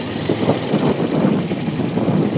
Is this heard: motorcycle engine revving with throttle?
yes